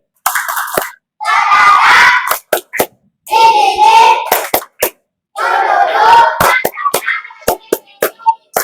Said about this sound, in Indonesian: Tepuk semangat lagi.